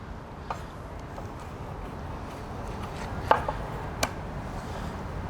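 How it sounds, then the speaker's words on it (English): A knife chops food into bigger chunks on a cutting board in a few sparse, sharp knocks over a low steady background hum, in a kitchen showroom. "Kind of just like chopping this up, kind of bigger chunks."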